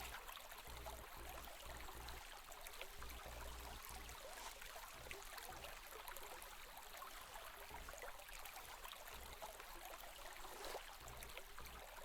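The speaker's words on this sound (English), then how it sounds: "I love this like little" A small river in a VRChat world flows with a soft, steady babble and trickle, faint and continuous without any talk over it.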